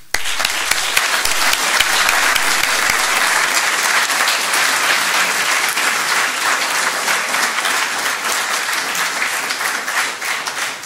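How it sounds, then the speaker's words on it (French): Long, steady round of audience applause at a school promotion ceremony, dense crowd clapping sustained at even loudness for about ten seconds before easing slightly. "Et je pense que vous pouvez les applaudir."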